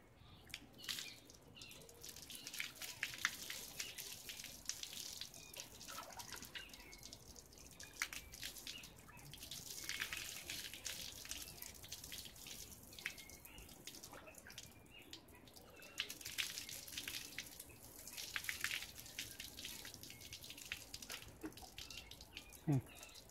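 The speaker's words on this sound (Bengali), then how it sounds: "আবার একটু এবারে এই জল দিয়ে ধুয়ে নেব" Water poured from a container to rinse shampoo out of a child's hair, faint intermittent splashing and trickling in bursts, quiet and close, with soft talk in between.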